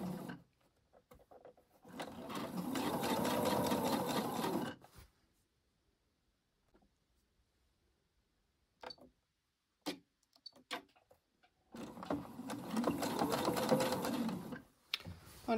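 Sewing machine stitching a split shirt placket in two bursts of rapid, even whirring, each a few seconds long, separated by a quiet pause broken only by small handling clicks and taps.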